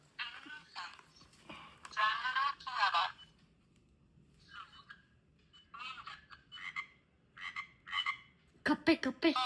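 Frog croaks play from a phone speaker in short repeated bursts with gaps between them, thin and fairly faint.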